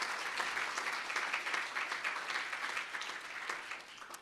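Assembly members break into steady applause, a dense field of close clapping that holds at even loudness for several seconds with no voices over it.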